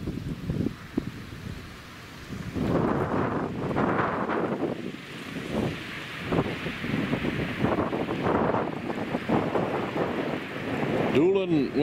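Gusty wind buffets the microphone outdoors in winter near small wind turbines, a steady broadband rush rising and falling in waves, with someone talking over it for much of the time.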